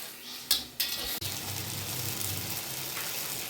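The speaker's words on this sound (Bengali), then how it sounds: "সামান্য একটু জল দিয়ে আমি মশলাটা সুন্দর কষিয়ে নেব।" Spice paste with a splash of water is fried and stirred in a pan for a ripe pumpkin omelette curry, with a couple of utensil scrapes followed by a soft steady sizzle, no voices.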